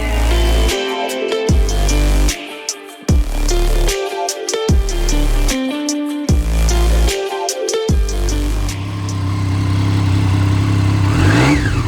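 A 2018 Triumph Street Triple 765 RS motorcycle engine revved hard several times in a row, each sharp rising blip dropping back to a rough idle, loud and close, before settling into a steady running drone.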